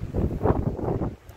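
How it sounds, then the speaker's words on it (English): Gusty wind buffets the microphone outdoors on a residential patio deck, a loud roaring rush that drops off near the end. "It's really windy today"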